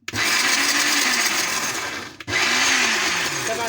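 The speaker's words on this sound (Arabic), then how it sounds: "طبعا انا سد بايدي الغطا بتاع الخلاط" An electric blender grinds sesame with a little oil into homemade tahini, a loud, close whirring roar that cuts out briefly and then starts up again.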